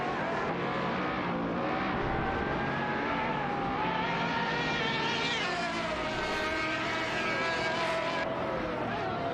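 AI-driven race cars in a racing video game, engines howling at high revs with rising and shifting whine, several cars layered together in a constant loud roar.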